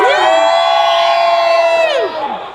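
Convention crowd at Treasure Valley Comic Con in the Nampa Civic Center letting out a sustained loud scream and cheer, holding steady for about two seconds before dropping off, high-pitched voices blending into one roar.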